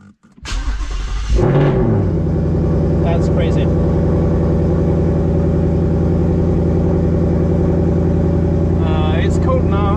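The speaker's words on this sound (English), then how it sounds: "Okay, let's start, see if it fires up." A cold car engine cranks briefly, catches with a loud burst and settles into a steady, close, rumbling idle with a faint rise near the end, while someone speaks briefly over it.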